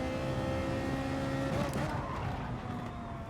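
A racing car engine in the video game GT Sport roars continuously at close range, its pitch shifting as it revs and changes gear, with a brief skid-like burst midway.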